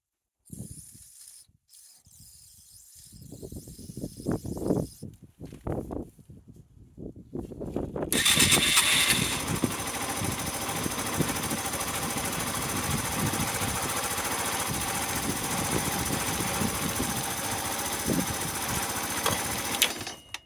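A Yamaha SR125 motorcycle restarted after three years idle, its engine catching after a few uneven sputters and then settling into a steady, loud, continuous running note close by, with no talk over it.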